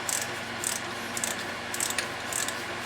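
Ratchet clicking while tightening a bolt on a Yanmar 2GM20 sailboat engine, several short bursts of rapid metallic clicks in a repeating rhythm, close and fairly quiet.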